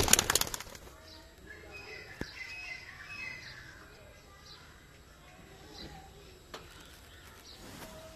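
A large-boned pigeon coos softly in a loft amid faint chirps and a brief flutter of wings, with someone talking over it.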